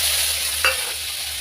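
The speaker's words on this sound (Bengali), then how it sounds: "এবার সিদ্ধ করে রাখা আলু, সিদ্ধ করে রেখেছিলাম আমি, আলুটা দিয়ে দেব" Boiled potatoes drop into hot oil that already holds dry chilli and whole cumin, giving a brief close splash and hiss over a steady, low frying sizzle, with no talking.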